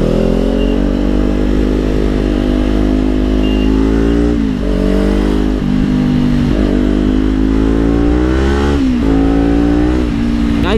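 A 2019 Kawasaki Ninja 400's exhaust roars while riding, its engine note climbing and dropping through several gear shifts, loud and close.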